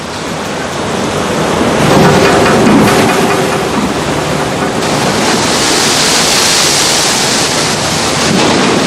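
A violent sea storm rages with a dense, roaring wash of heavy rain, wind and crashing waves, loud and continuous with rumbling low surges like distant thunder.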